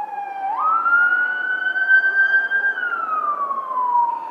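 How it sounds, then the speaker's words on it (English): A fire truck siren wails past, rising then holding a long high tone before sliding down as it moves away, loud and clear with no talk over it. "when you hear fire trucks and paramedics"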